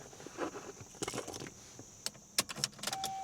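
Chevy Malibu car keys jangle in short, irregular metallic bursts, quiet and close, separated by brief pauses over a low, faint background hum.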